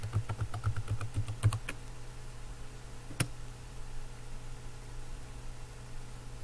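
A password being typed on a computer keyboard, a quick run of close, light key clicks that stops, then a single later keystroke over a steady electrical hum.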